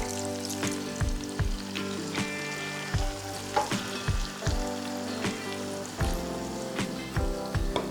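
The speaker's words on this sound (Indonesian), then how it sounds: "Nah, aku akan masukkan airnya sekarang." Frying ayam rica rica spice mix sizzling in a pan as water goes in, a loud continuous hiss and bubbling with repeated clanks and scrapes of a spatula against the pan, no talking.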